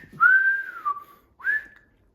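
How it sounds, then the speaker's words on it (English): A person whistles two short, clear phrases nearby, the first a long sliding tone and the second a brief rising note, with nothing else audible. "I don't know what that whistling was for"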